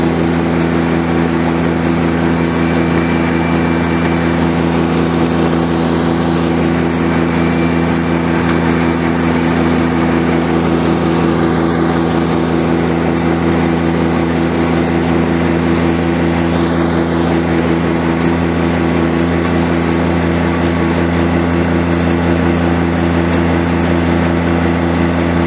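A Kubota BX compact tractor engine runs steadily and loudly throughout, holding a constant droning hum with no change in speed.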